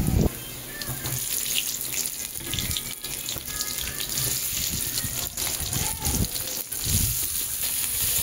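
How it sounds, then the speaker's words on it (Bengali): Potato and pointed gourd pieces coated in salt and turmeric, frying in oil in a pan, make a steady broad hiss with occasional louder crackles throughout. "আলু পটলটাকে দিয়েছি, এইবার এই তেলের মধ্যে একটু ভাজা ভাজা করব।"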